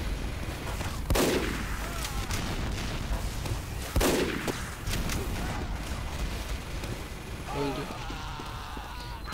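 Loud, sharp sniper rifle shots from the video game Team Fortress 2, two prominent cracks a few seconds apart over a constant bed of game noise, with a faint voice talking underneath.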